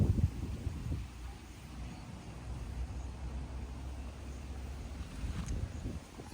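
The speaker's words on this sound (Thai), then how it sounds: "ลมพัดมา" Wind gusting across open rice fields by a small hut in Laos before an approaching storm, a low buffeting rush against the microphone that swells at the start and end and eases in between.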